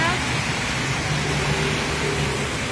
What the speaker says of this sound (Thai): กรุงเทพเอกมัยฝนตกค่ะ